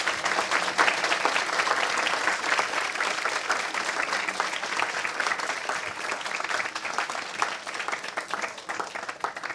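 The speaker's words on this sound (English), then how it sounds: "Ladies and gentlemen, please a big round of applause for our panel." An audience at a history panel discussion gives sustained, even applause for the panel, a dense wash of many hands clapping continuously without letting up, with faint murmurs mixed in.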